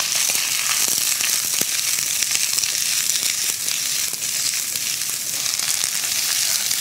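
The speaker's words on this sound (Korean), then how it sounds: "좀 딱딱한 채소인 당근과 양배추를 먼저 좀 넣어줄게요." Carrots and cabbage stir-fry with sausages in a hot pan, giving a steady, close, dense sizzle with faint crackles. It runs unbroken from start to finish, with no voices.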